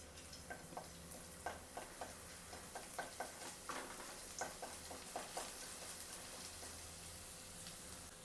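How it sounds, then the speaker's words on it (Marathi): Finely chopped garlic fries in oil in a large heavy-bottomed kadai, a faint sizzle under regular light taps and scrapes of a spatula stirring, quiet throughout. "थोडं तेल घालून घ्यायचं। हा लसूण घालायचा बारीक केलेला।"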